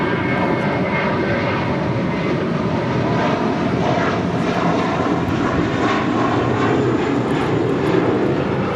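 An American Airlines Airbus A321 jet in a special Stand Up to Cancer livery departs LAX, bound for Dallas Fort Worth. Its engine roar rises loud and steady, broadband and sustained throughout, with no talk.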